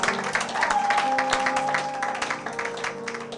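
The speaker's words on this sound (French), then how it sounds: "Acclamez pour la gloire de notre Seigneur Jésus" A church congregation claps through a Sunday service, dense, steady applause filling the room over a sustained held musical tone.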